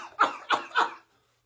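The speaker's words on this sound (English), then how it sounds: "I just have a slight cough." Three short, sharp coughs from one person, evenly spaced and close up, with a brief silence after them.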